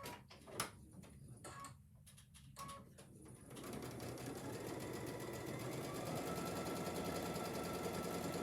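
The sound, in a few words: sewing machine sewing quilt sections together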